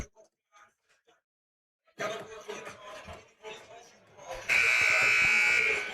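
After a quiet stretch, noisy crowd chatter rises at a varsity basketball game, then a loud electronic buzzer blares steadily to the end of the half.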